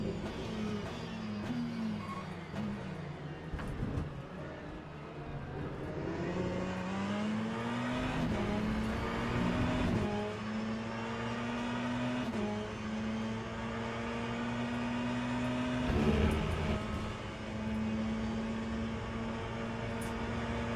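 Race car engine in Le Mans Ultimate, an LMDH prototype running online at Monza, droning steadily with rising pitch sweeps and gear shifts over about twenty seconds, loud and continuous with no talk.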